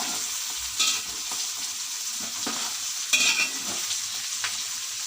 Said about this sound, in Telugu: వంకాయలు కూడా మాడకుండా వేయించుకోవాలి నూనెలో.